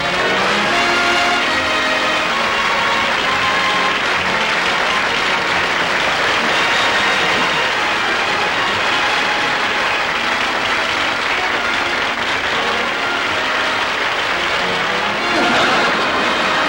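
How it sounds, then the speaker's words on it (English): A studio audience applauds Jack Benny with steady, dense clapping that holds loud and continuous throughout, swelling slightly near the end, with no speech over it. "Look at him milk that applause."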